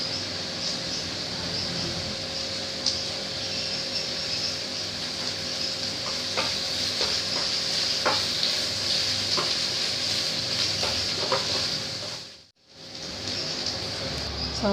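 Sliced onions frying in a pan for a brinjal pepper fry, a soft, steady sizzle with occasional light scraping taps, dropping out briefly near the end before resuming.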